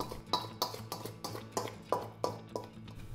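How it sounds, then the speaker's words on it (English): A utensil stirs flour, baking powder, salt, baking soda, sugar and poppy seeds in a mixing bowl, giving a steady series of about ten light clinks and scrapes, close and quiet with no talking. "In a mixing bowl, stir together the flour, baking powder, salt, baking soda, sugar,"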